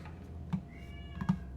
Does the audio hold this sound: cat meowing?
yes